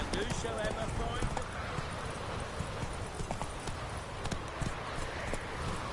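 Hooves of a horse galloping in The Witcher 3, a steady rapid clip-clop running throughout under in-game music and ambience, with a voice speaking over it.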